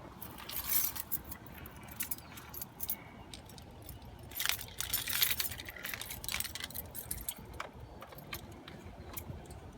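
Keys jangle and clink in bursts while being searched for before recharging a car's air conditioning, with scattered metallic rattles and rustling over a steady low background hum.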